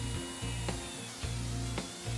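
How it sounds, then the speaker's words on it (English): A low-speed drill bores through truck tire rubber from inside the tire, a steady low grinding hum with recurring rhythmic surges roughly every half second as the bit turns clockwise, close up and with no talk. "begin drilling from the inside of the tire with the drill turning in a clockwise direction"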